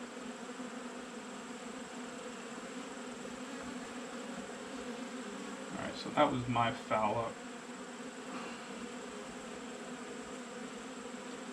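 Bees hum in a low steady drone around an open beehive with exposed comb filled with pollen, with a brief burst of closer buzzing and someone speaking briefly midway.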